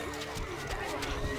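Horse neighing inside a Stronghold: Crusader Extreme medieval strategy game, a short whinny over busy battle ambience with possible hoofbeats, game voices murmuring faintly underneath.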